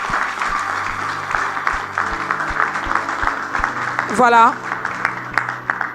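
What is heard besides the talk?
church congregation applauding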